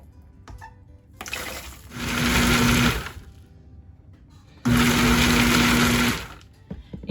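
A food processor coarsely chops dry fruits in two pulses, each a loud whirring grind of about a second and a half, separated by a quiet pause with light handling sounds.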